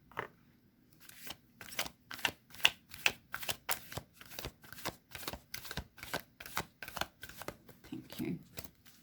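A tarot card deck is shuffled close by in a long run of quick, crisp riffles and taps, the bursts coming in a steady rhythm over a quiet room.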